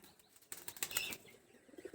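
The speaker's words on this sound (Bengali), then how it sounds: "এই দেখেন কবুতর আসতেছে কবুতরগুলো সব আসতেছে আবার" Pigeons fly in with a short burst of close wing flapping in the middle of a quiet two seconds, against faint background noise.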